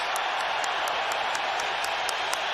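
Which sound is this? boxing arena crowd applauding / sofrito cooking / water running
boxing arena crowd applauding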